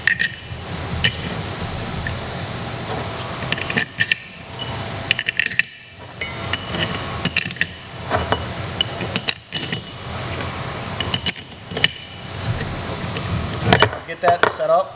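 Metal bolts clink and tap repeatedly as they are set into the cover of a transparent gauge, a series of sharp close metallic knocks separated by short pauses with faint background hum.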